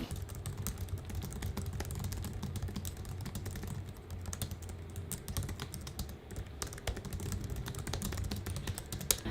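Steady, fast typing on a mechanical keyboard, a dense run of clicky keystrokes with no talking, close and continuous throughout.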